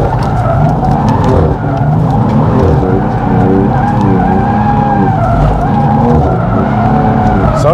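BMW M4 GTS sliding around a closed track: a loud, sustained tire squeal over a roaring engine whose pitch rises and falls, close and continuous throughout.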